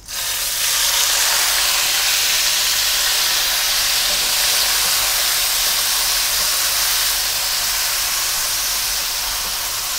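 Diced tomatoes sautéing with bay leaves in a pan for a pig feet adobo, giving a loud, steady steamy sizzle and hiss that runs unbroken close by for the whole stretch, with no talk.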